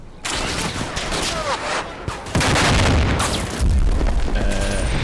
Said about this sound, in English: Oh, it's the automatic grenade launcher.